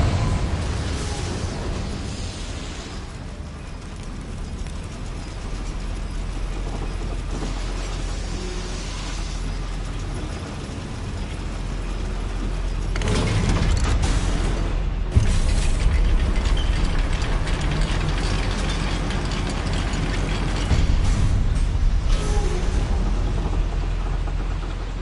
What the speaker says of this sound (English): Look at this lift. Impressive workmanship for so simple a device.